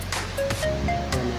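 Sea waves wash in beyond a beach resort swimming pool, a steady surf roar with short surges of spray, moderately loud, with no talk over it.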